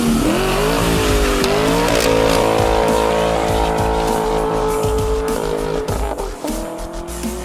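A 2019 Dodge Challenger SXT with a Kinney's Street Demon exhaust and an aFe cold air intake roars loudly up close, its revs climbing and dipping, with tire squeal mixed in and no voices.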